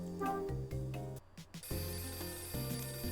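A telephone rings in the video game Hotel Dusk: Room 215 as a repeating electronic chime in short bursts, set over steady background game music.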